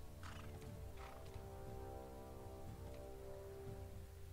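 Horses in the fantasy video game Bless Online, soft hoof clops and faint neighing set against a steady low in-game ambient drone, no talking.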